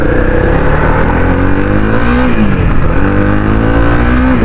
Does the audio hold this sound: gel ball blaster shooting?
no